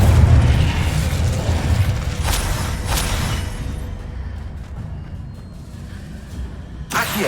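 Incendio fire spell cast in the Hogwarts Legacy video game, heard as a loud booming burst with crackling flame roar that fades over several seconds, with sharp flares midway and another pop near the end.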